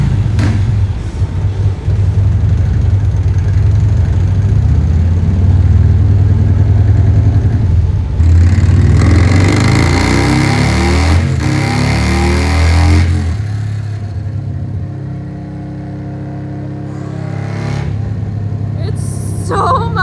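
A loud tuned motorcycle engine starts and rumbles at idle, then revs sharply a couple of times with rising whine before settling back down; voices speak briefly over it.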